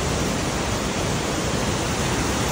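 McLaren Falls in Tauranga, the largest falls there, gives off a dense, steady rush of falling water that fills the scene evenly and close by, with no breaks.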